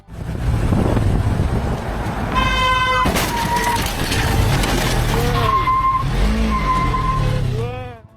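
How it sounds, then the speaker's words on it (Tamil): A car brakes suddenly, its tyres skidding and squealing in several loud, wavering bursts over a continuous engine and road roar, with a horn-like tone sounding briefly near the start. "இங்க கார் ஒன்று சடன் பிரேக் போட்டதுனால என்ன நடந்திருக்குன்னு பாருங்க"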